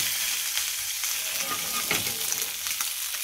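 A spicy sea bass fillet crackles in a hot pan after being flipped, with a continuous close sizzle and occasional light spatter pops.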